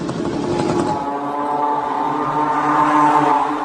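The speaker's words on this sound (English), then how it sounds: "All that weight is amazingly being powered by a Moto MD550, a 50 horsepower civilian engine, which makes it pretty slow." A Moto MD550 50 horsepower Chinese scooter engine running: a steady buzzing drone with a harmonic whine, rougher and louder at the start, then settling into a smooth continuous hum.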